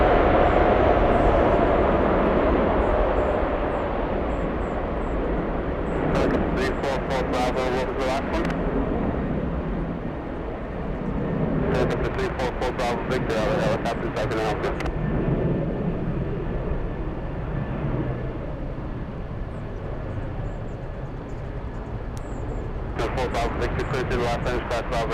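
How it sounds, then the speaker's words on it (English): A Boeing 747 taking off from the south side at LAX, a broad, steady jet roar that swells and holds throughout, with brief rattling bursts of nearby noise on top. "We have a 747 takeoff in the south side."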